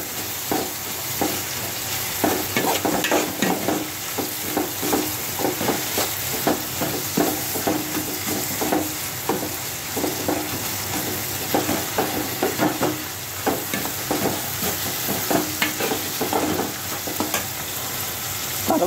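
Ginger garlic paste sizzles loudly in a hot pan while a spoon stirs it, giving steady crackling frying with repeated scraping strokes throughout, close and continuous with no talk.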